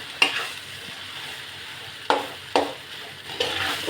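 Noodles frying in a pan, six packets' worth, with a steady sizzle broken by a few sharp scrapes and clatters of stirring, close by and without talk.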